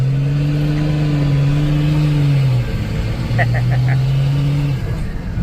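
A Jeep JKU with an M57 engine swap accelerates at about half throttle, its loud, close engine drone dipping briefly mid-pull before climbing again and holding steady to the end.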